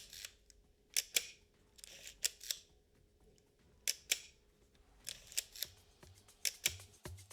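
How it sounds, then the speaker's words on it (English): Film advance lever on a Leica MP film camera being wound repeatedly: soft ratcheting clicks and sharp ticks in irregular bursts, close and quiet over a faint hum, with no talking. "With this camera, the film advance lever is just so smooth."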